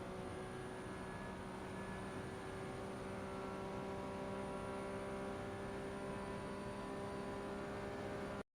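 Ferrari 296 Challenge race car in iRacing held flat out at full throttle over a crest at Spa, a steady loud engine drone with constant pitch and no talking.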